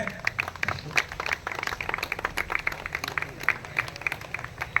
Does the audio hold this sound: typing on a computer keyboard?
no